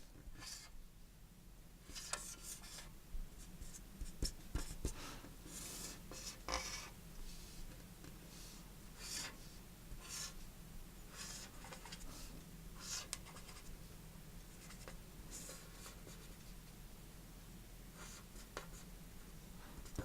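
A pen scratches across paper while a diagram of a computer keyboard is drawn, with steady close scribbling strokes and short pauses over a low background hum.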